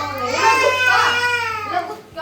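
Children cry and wail at home, a loud tearful wail rising and falling close by, with other young voices mixed in.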